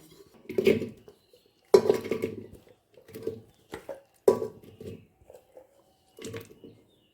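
A pressure cooker is handled while being greased with mustard oil, giving several close, clattering metal knocks and scrapes in irregular bursts with quiet gaps between them.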